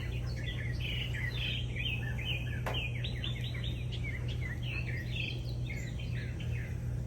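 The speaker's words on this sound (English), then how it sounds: "There's some mockingbirds over there." Mockingbirds call from nearby trees beside a front porch in Furman, South Carolina, a steady run of bright, varied chirps and tweets over a constant low hum, with no talking.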